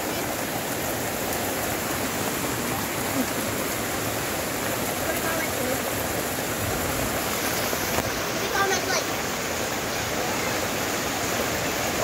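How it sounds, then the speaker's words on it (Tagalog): Steady, dense rain pouring down continuously, a loud broadband hiss with no breaks. "Oh, kahit umuulan."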